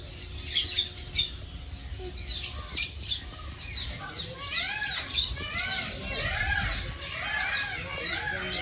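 Small birds chirp and tweet repeatedly in quick, overlapping calls, fairly close, with a few faint voices in the background.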